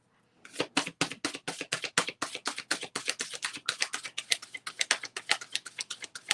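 Horror Oracle cards are side shuffled in quick, rhythmic bursts, a dense run of close papery taps and slaps repeating steadily with no pauses.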